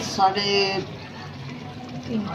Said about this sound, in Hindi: पानी मैंने डाल दिया है।